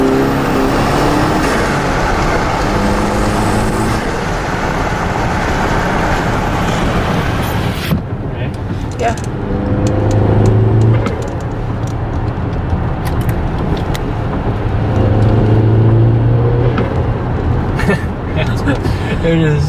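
Audi B8 2.0T with an AEM intake, a stock car out in the rain, revving and accelerating with a steady engine drone and rising surges, while voices talk over it.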